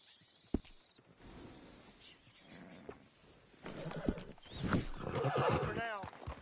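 A horse in Red Dead Redemption 2 snorts and gives a loud whinny near the end, with hooves clip-clopping nearby and voices talking over the animal sounds.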